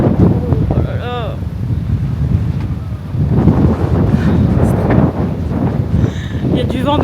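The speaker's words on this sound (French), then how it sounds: "Il y a du vent de ouf, je sais pas si vous allez bien m'entendre." Strong wind buffets the microphone outdoors in Miami in the evening, a loud continuous low rumble with gusts, while a person talks over it throughout.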